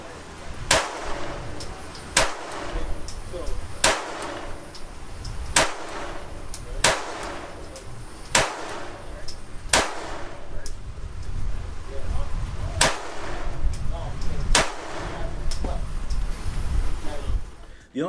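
Pistol shots from Glock 19-style handguns, a PSA Dagger and an SCT-frame build, crack out one at a time at a slow, even pace of about ten sharp reports, each fired close by, while someone talks steadily underneath.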